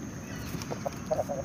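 A rooster, brother of a purple-colored bird, gives a few short, soft clucks near the end, faint against a quiet farmyard background.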